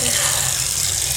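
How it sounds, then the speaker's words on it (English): Water runs steadily from a tap into a sink while someone washes their hands, making a loud, close, continuous splashing hiss that fills the whole moment. "Time to wash my hands."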